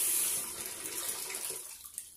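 Water from a sink whose tap connection under the basin has been cut off, pouring straight down into a bucket: a steady, fairly loud splashing flow close by that tapers slightly over about two seconds, with no talk.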